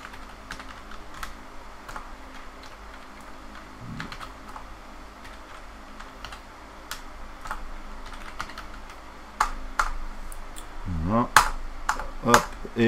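Steady keyboard typing with rapid key clicks throughout, growing louder and more clustered near the end, with a few sharper taps.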